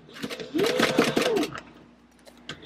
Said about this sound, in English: Alright, I've got a 4-stitch length. I am going to backstitch.